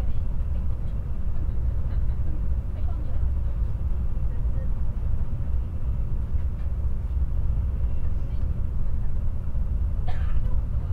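Inside a Shinkansen Nozomi bullet train travelling at speed in Japan, a steady low rumble and rolling drone continue throughout, with a brief faint sound near the end.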